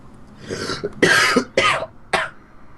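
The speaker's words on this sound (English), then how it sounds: "Yes, Maya has a cough." Four harsh coughs from a character in Phoenix Wright, in quick succession, loud and close, with short gaps between them and no talking.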